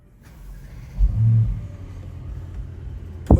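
A 2019 Mercedes-AMG E63 Wagon engine cold-starts, turning over and catching with a brief rising rev, then settles to a low rumbling idle, with a sharp click near the end.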